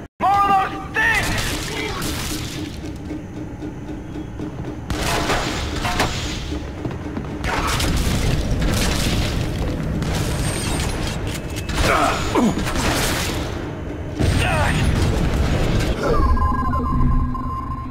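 Artillery explosions in the video game The Bureau, a series of loud booming blasts and rumbling impacts spread over the clip with a steady heavy battle din between them, mixed with other game effects and voices.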